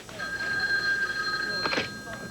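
A telephone rings in an office setting with a steady electronic tone that ends in a short rattling burst, while voices speak over it.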